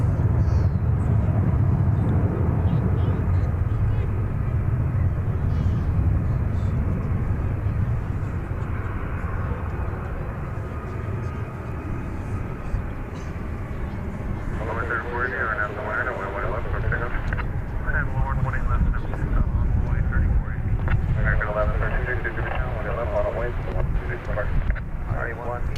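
An airliner at DFW Airport produces a steady, fairly loud engine roar for about fifteen seconds, after which a radio-like voice talks over the continuing jet noise.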